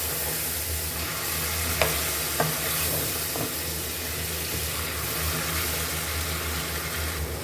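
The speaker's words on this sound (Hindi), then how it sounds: "जो हमने चिकन मैरिनेट किया था वो हम डाल लेंगे और इसको हमने फ्राई कर लेना है" Marinated chicken fries in a pan, a steady close sizzle with a low hum beneath and a few sharp utensil clicks early on, no voices.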